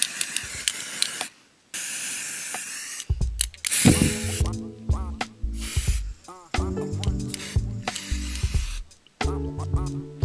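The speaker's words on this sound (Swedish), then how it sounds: "Behöver vi bara spraya topparna liksom." Hair spray is misted onto the tips of the hair in several short bursts, each a sharp hiss separated by pauses and handling noises.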